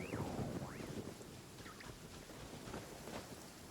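A thunderstorm in the video game Genshin Impact brings a continuous wash of rain and low rumbling, with a few brief chirping game tones rising above it and no talk.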